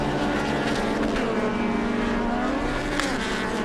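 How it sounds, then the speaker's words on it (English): Loud, continuous engine roar of off-road racing trucks at a TORC race in Elk River, Minnesota, revving with shifting pitch as they pass, dense and unbroken. "Hearing those power plants revving up,"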